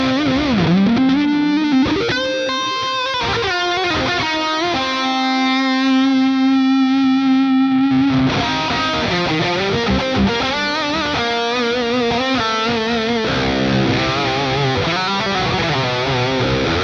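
Electric guitar played through the Archetype Plini amp plugin with the compressor cranked as a solo boost, a distorted, sustaining lead with bends, long held notes and fast legato runs, loud and continuous with a chorus-like shimmer.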